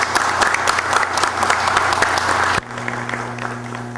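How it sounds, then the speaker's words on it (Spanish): Loud, sustained applause from an audience at a citizen security committee ceremony, many hands clapping close together, then cutting abruptly to a quieter room with a low hum and scattered claps fading out. "Un aplauso."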